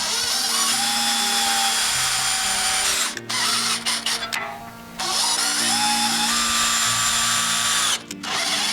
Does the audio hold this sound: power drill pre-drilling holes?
yes